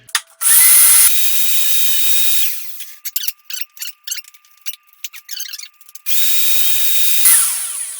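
Power saw cutting a marked rail piece to length for a precision rail build, a loud sustained whine running for about two seconds, then broken bursts of cutting, then another sustained run with no talking.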